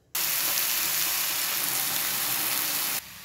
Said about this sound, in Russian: Обжариваю немного грибы с лучком